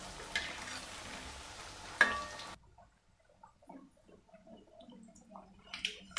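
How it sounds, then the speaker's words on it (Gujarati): Brief oil sizzle with a stir at first, then a quieter stretch of soft crackles and bubbling pops from kothimbir vadi frying over low heat. "ધીમી ધીમી આંચ પર તો એને આ રીતના ઉલટ પુલટ કરીને આપણે તળી લઈશું"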